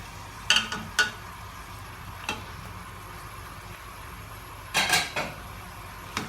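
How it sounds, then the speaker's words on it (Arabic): A spoon clanks and scrapes against a cooking pot while kabsa ingredients (lamb, tomatoes, sliced carrot) are stirred, giving a few sharp metallic knocks in separate clusters over a soft, steady background hiss. "هقلب كل المكونات دي مع بعض كده"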